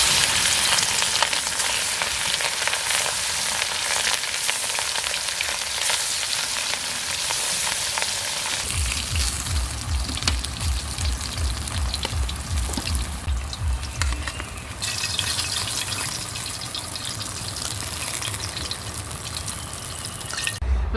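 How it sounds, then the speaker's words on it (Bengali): Katla fish pieces frying in hot oil, a loud continuous sizzle and crackle that carries on throughout, with a deeper bubbling rumble joining partway through. "বাকি মাছটা একই তেলে ভেজে নেব।"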